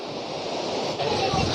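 Heavy water pouring down the Birthi waterfall in the Kapkot to Munsiyari hills, a broad continuous roar of falling water with wind rushing across the microphone.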